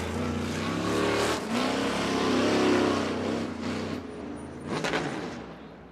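Dwarf race car engine at a dirt-track heat race firing up, a loud rising rev with steady harmonic drone that swells, dips near the end, then cuts off abruptly.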